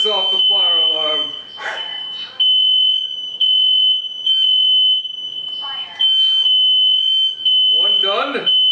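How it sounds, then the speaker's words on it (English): A kitchen smoke alarm set off by cooking sounds a piercing, sustained high-pitched beep in repeated bursts while people talk over it nearby. "There is nothing like a flavor crisp that sets off the fire alarm"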